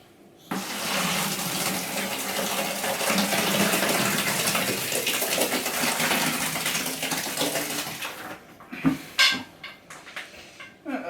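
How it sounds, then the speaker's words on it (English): Several litres of water gush steadily into a brewing container for several seconds, then slow to splashes and trickles before stopping. "now obviously we're pouring several litres of water into"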